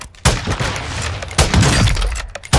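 Gunfire from Warzone 2 in a close-range firefight, with sharp cracks of shots and a long roaring burst of fire or explosions filling most of the moment.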